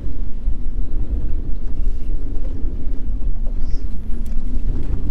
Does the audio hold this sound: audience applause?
no